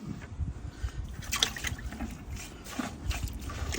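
Water draining out of a boat engine's oil in place of oil, a continuous close trickling and splashing flow with small drips, steady and unbroken for the whole stretch.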